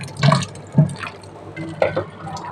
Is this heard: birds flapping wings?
no